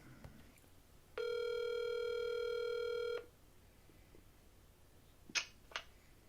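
An outgoing phone call rings out as a single steady electronic tone of about two seconds, followed by a few faint clicks and a short sharp tap near the end, with no speech.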